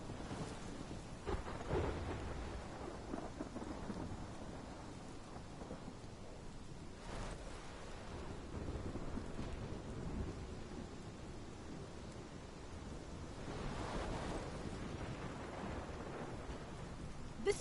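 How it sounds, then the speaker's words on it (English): A steady thunderstorm in the Life is Strange video game: constant heavy rain with low rolling thunder swelling now and then, loud and unbroken throughout, with no voices. "This is my storm."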